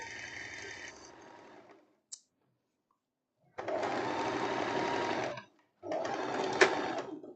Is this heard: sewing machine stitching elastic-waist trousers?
yes